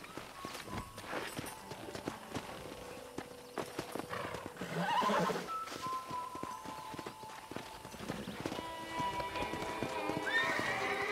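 A horse in the video game Red Dead Redemption clip-clops along with steady hoofbeats, whinnies loudly midway, and keeps trotting amid game ambience at a modest level.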